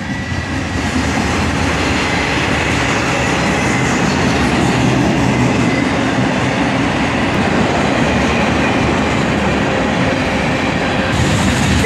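Union Pacific mixed freight train with KCS boxcars rolling past a siding in Austin, Texas, a loud, continuous rumble and rattle of cars with steady wheel clatter, close by throughout.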